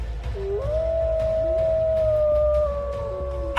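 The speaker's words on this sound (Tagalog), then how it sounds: "nakarinig kami ng malalakas na alulong ng aso" Loud, drawn-out dog howls as a sound effect in a dramatized horror story, overlapping wavering tones rising and holding over a low rumbling background, close and prominent with no talk.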